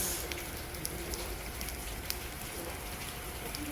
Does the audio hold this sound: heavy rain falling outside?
yes